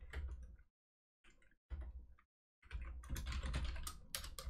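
Keys clatter on a computer keyboard in a close, quiet room, with quick bursts of typing broken by short pauses and then a longer, denser run of keystrokes.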